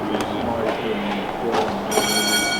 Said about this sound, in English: that was the push-pull train back again